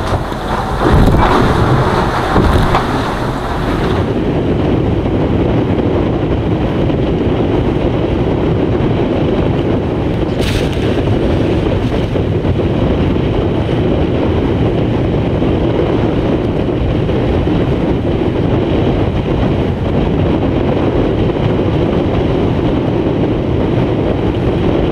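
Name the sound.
wind at sea on a sailing boat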